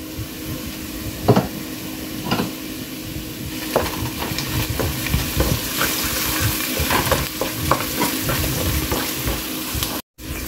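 Shrimp and onions fry steadily in a pan, a continuous close sizzle broken by scattered stirring scrapes and small clatters, with one brief dropout near the end; no one speaks.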